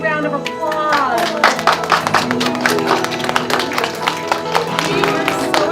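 A crowd of children and adults claps for their teacher at an awards ceremony, a dense, lively burst of applause that carries on under an announcer's voice and cheering.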